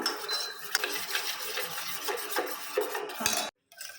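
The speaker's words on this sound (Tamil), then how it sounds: "கை விடாமல் நம்ம வந்து இதை மிக்ஸ் பண்ணிகிட்டே இருக்கணும்" A utensil stirs potato and aloe vera gel in a pan nonstop, making close, steady scraping and sticky rubbing with occasional clinks against the metal before stopping abruptly.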